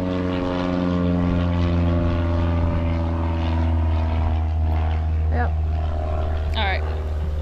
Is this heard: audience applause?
no